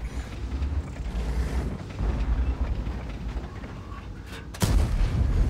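Heavy tank cannon fire in World of Tanks, a loud booming blast over a constant rumbling engine and battle din, with a sharp shot near the end followed by rumble.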